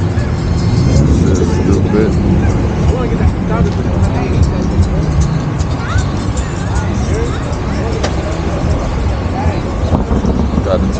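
Cars idle and roll past at a cars and coffee meet, including a Mustang pulling in, with a steady dense rumble of engines and traffic under a crowd's background chatter throughout.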